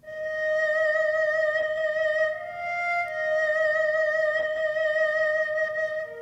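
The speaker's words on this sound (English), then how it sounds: "This is the sound of a Chinese violin called an erhu." Bowed erhu, a Chinese two-string fiddle, played by a singing creature in the video game My Singing Monsters: a sustained, steady bowed melody line with slight pitch sliding, alone and fairly loud throughout.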